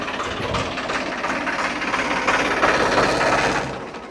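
A steady, rumbling Farmtrac tractor engine idles on without change, a low mechanical drone with no voices over it.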